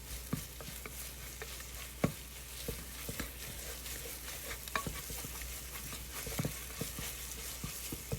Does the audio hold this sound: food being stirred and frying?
yes